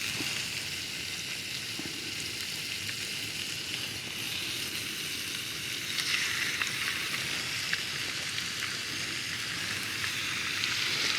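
Pigs in blankets sizzle steadily in a pan on a camping stove, a continuous close crackling hiss like light rain that swells a little louder partway through, with no talking over it.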